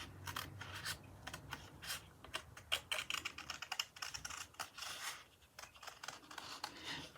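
Paper is cut with scissors while a pop-up book is being made. Soft, quiet, close snips and paper scratches come in an irregular, steady run.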